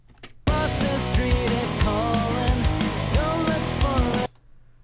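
Programmed closed hi-hat for pop punk, every hit using the identical sample, ticking steadily through a loud full band mix with guitars and drums, about four seconds long, starting and stopping abruptly.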